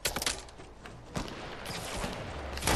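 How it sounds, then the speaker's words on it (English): Gunfire crackles in rapid bursts during a duo squad shooter match, the sharp shots fairly close and clustered, with a louder volley at the start and another near the end. "Oh, we're being shot."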